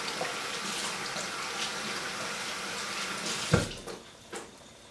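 Tap water running over hands at a kitchen sink while preparing chuck roast, a steady close splashing stream, with a brief clunk near the end as it tapers off.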